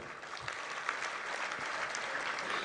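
Crowd at a farmers' union gathering clapping steadily and loudly throughout, a dense continuous applause with no voices standing out.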